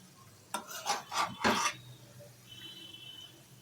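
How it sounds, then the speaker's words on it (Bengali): Flat beans frying with spices in a pan, stirred with a utensil: a short run of four or five scraping, rasping strokes in quick succession, then a faint low sizzle carrying on alone. "শিমগুলো দিয়ে ভালো করে আমি মশলার সাথে ভেজে নেব।"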